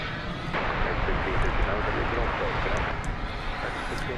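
A jet airliner takes off at Dallas Fort Worth Airport at night, a dense, loud, continuous engine roar close by that holds steady throughout, with people talking over it.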